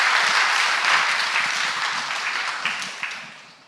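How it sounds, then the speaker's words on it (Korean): A church congregation at a Sunday afternoon service in Pyeongtaek breaks into sustained, dense applause that fills the room and gradually fades toward the end. "우리 박수하겠습니다"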